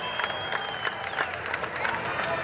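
Audience applause and crowd noise at a 1982 September 16th celebration in San Jose, a steady wash of clapping and cheering at moderate distance with no voices over it.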